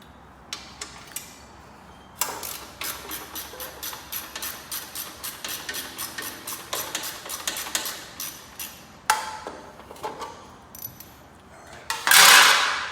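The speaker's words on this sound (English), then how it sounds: "there is a third 10mm bolt that needs to come out in order for this to be removed" Ratcheting clicks while a 10mm bolt is backed out of the exhaust on a Suzuki King Quad ATV, a steady run of close, sharp metallic ticks that ends with a brief louder clatter.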